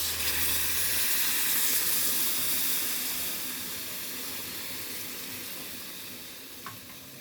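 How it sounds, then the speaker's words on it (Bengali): Hot water poured into a pan of frying banana stem sets off a loud, broad sizzling hiss that slowly softens over several seconds, with a faint clink near the end. "এবার দিয়ে দেবো গরম জল।"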